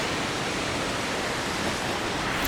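River water flowing in Andorra, a dense, steady broadband rush that stays even and close throughout, with no voices.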